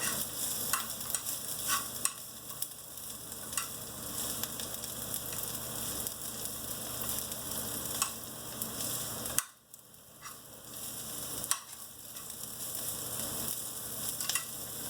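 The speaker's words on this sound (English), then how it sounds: "So as this cooks, just saute it around to let it soften." Shallots sautéing in a pan for Szechuan string beans give a continuous soft frying hiss with light stirring scrapes and a brief dip near the end.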